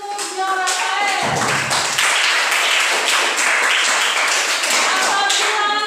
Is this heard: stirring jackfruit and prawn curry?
no